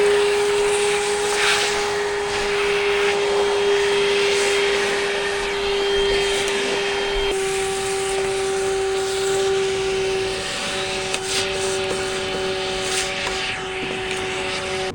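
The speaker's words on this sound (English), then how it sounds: "I was just using the Milwaukee cordless vacuum for this one" A Milwaukee cordless vacuum whines steadily as it cleans debris from a car windshield pinch weld and cowl area, a loud, close, continuous motor drone with shifting pitch as the nozzle moves, no talking.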